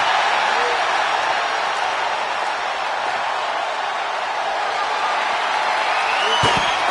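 Loud, steady arena crowd roar from the WWE 2K26 wrestling video game, a dense wash of cheering noise that holds for the whole stretch with a brief thump near the end.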